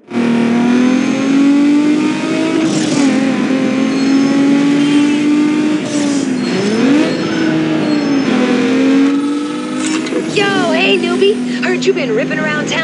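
A tuned street car engine in Need for Speed Underground 2 roars and revs continuously, pitch rising and falling through gear changes with a strained whine near the end, loud and close under a voice talking.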